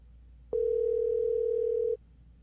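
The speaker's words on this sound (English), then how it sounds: "Okay, that's a third ring." Telephone ringback on an unanswered call, a single steady electronic tone lasting about one and a half seconds over faint background hum, no voices.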